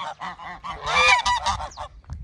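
Ducks honking in a loud, close chorus, a rapid run of nasal calls overlapping for about two seconds.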